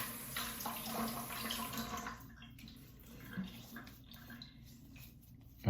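A tap runs and water splashes onto a face before shaving, a close steady hiss for the first couple of seconds that cuts off into quiet with faint trickles and drips.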